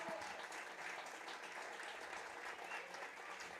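Crowd applause at a high school varsity baseball game, Washington Court House vs Miami Trace: steady, even clapping from the stands throughout, moderately distant and fairly faint, with no break.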